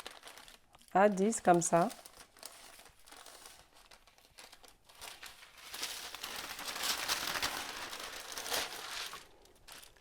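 A paper sewing pattern for a skirt being folded by hand, soft crinkling and rustling that swells in the second half, with someone speaking French over it.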